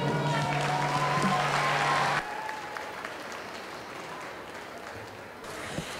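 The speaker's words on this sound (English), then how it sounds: "Let's give him a round of applause." Crowd applause at a youth fair market steer show, a steady burst of clapping from the audience that cuts off after about two seconds, leaving a quieter arena hum with scattered faint sounds.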